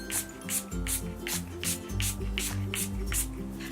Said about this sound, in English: I'm going to shake it up really good and spray it all over my face